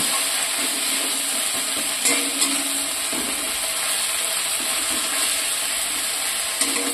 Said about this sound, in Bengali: এবার ভালো করে আদা রসুনটাকে একটু ভাজা ভাজা করে কষিয়ে নেব।